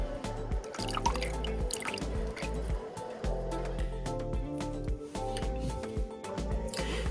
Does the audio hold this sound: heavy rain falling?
no